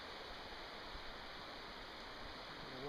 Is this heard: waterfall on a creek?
yes